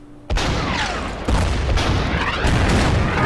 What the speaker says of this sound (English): we'll shell it with artillery